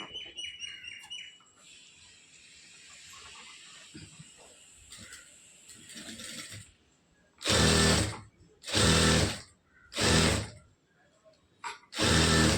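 A sewing machine stitches a full sleeve with a rose-flower design in four loud, even bursts, each roughly a second long with short pauses between, following a quiet stretch with faint chirping.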